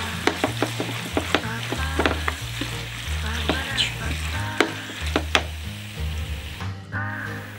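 Garlic stirred in oil in a frying pan, a steady sizzle broken by repeated sharp clinks and scrapes of the spoon against the pan, close and fairly loud, with no talking.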